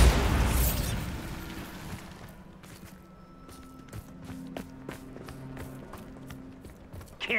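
The Bombarda spell in Hogwarts Legacy goes off as a loud burst at the start that decays over a couple of seconds, followed by a string of sharp clicks and small pops over a low rumble.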